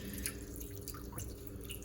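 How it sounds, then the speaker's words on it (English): Water dripping and trickling while soaking potted succulents such as an echeveria, soft irregular drips and small splashes close by, fairly quiet and alone without talk. "I like to water like this and just make sure I get a good soak."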